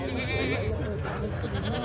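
A goat kid bleats amid the crowd noise of a busy livestock market in Boysun, Surxondaryo, with people talking nearby throughout.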